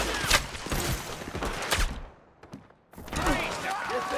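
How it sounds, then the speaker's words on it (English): Gunfire breaks out in a camp in Red Dead Redemption 2, loud close shots and thuds amid shouting, a brief near-silent lull, then the chaotic shooting resumes. "Guns in the camp!"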